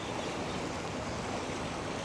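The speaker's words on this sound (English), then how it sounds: "The river is still flowing quite quickly." Fast-flowing river water in Chiang Mai during flood season, a steady broadband rush that holds an even, unbroken level for the whole stretch with no voices.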